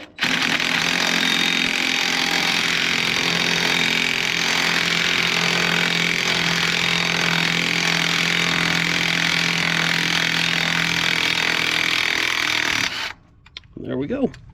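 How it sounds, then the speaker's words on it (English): An impact wrench spins the crank bolt on a Ford 5.0 truck engine in one long, loud, continuous buzzing whir close by, cutting off abruptly near the end, followed by a brief voice. "I'm going to use an impact because why not?"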